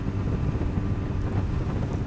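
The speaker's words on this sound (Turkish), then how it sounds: "Aşırı rüzgar var bir de zaten." Strong outdoor wind buffeting the microphone, a continuous low rumbling roar with no talk.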